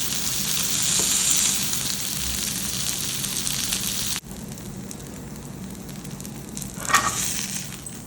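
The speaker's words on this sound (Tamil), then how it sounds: "நம்ம முன்னாடி பண்ண மாதிரியே அடுத்த ப்ரான்ஸையும் நம்ம இதில் போட்டு ஃப்ரை பண்ணி எடுத்துக்கலாம்." Prawn tikka frying in a pan gives a loud, dense, close sizzle that drops suddenly partway through, then continues more quietly with a brief flare of crackling.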